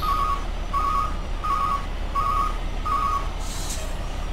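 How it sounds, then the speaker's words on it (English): A truck backup alarm mod in American Truck Simulator beeps five times in an even rhythm over a low engine rumble, followed by a brief hiss near the end. "And that backup alarm, if you're interested in that backup alarm, that's because they're found on the Steam Workshop"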